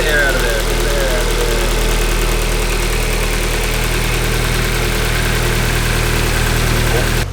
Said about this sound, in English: the car has now been idling for like 15 minutes